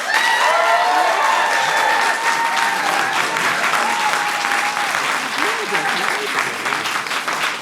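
An audience at a debate applauds, a dense patter of clapping that stays loud throughout, with a few voices calling out over it.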